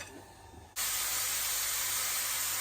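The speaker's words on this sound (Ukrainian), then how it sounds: "Сюди даємо грибочки. І як трошки грибочки підсмажаться" Mushrooms in a little oil hit a hot pan and burst into a loud, steady sizzle after a quiet moment, with the hiss holding at an even level.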